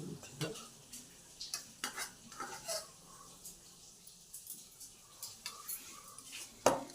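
Soybean curry served into a bowl, with a spoon giving a series of light scrapes and clinks against the dishes, soft and close, ending in one sharper knock.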